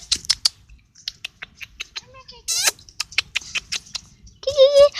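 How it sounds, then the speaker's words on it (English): A small white kitten outdoors gives a few thin, high mews among quick scratchy rustles and taps, with brief bird-like chirps mixed in and a closing drawn-out cry, all close and fairly loud. "Okay, here's our kitten."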